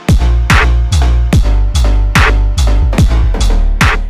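Pluck synth sounds taken from an Ableton Note preset, about eight evenly spaced bright plucked notes with deep bass under each, loud and rhythmic, playing alone without talk.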